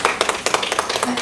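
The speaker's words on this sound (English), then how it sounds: "everybody deserves a round of applause" An audience at a sales training session gives a quick round of applause, a brief burst of close, uneven clapping from several pairs of hands.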